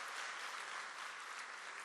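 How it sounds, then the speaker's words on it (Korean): A congregation at a school chapel service claps steadily for the choir, a dense, even wash of applause heard at a moderate distance with no gaps. "박수 한번 보내주세요"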